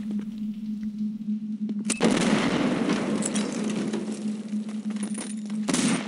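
Flashbang breach followed by gunfire in the tactical shooter SWAT 4: a steady low hum, then at about two seconds a loud broadband burst that rumbles on as dense noise, with another sharp hit near the end.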